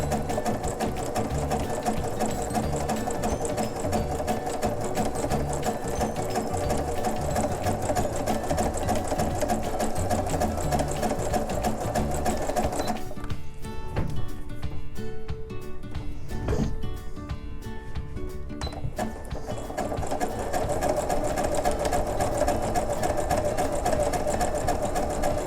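A sewing machine runs steadily, stitching fabric for a horse tail bag, with a continuous close mechanical whir that briefly drops off midway before resuming at full speed.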